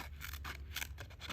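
Ganzo G302B multi-tool scissors snip through material in a quick string of short, crisp close-up cuts over a bit more than a second, with no talking.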